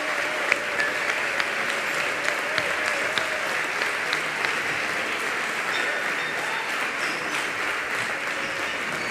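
An audience at an outdoor patron-saint festival concert in Carrizal applauds with steady, dense clapping that continues throughout, with voices in the crowd mixed in.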